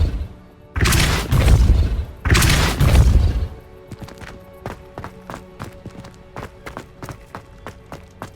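Depulso spell cast in Hogwarts Legacy: two heavy, roaring whooshes with deep booming bodies, followed by a rapid series of crisp clicks and taps that continue steadily to the end.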